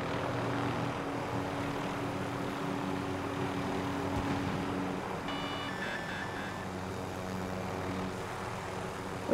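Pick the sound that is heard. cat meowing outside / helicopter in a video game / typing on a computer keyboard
helicopter in a video game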